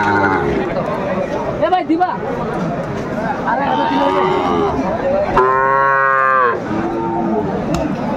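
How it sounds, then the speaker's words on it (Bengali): Sahiwal bull calves moo at a busy cattle market, with one loud, drawn-out moo standing out near the middle over a steady background of crowd chatter and people talking. "শাহিওয়ালের বাচ্চা, ষাঁড় বাচ্চা, কোয়ালিটি সম্পন্ন শাহিওয়াল।"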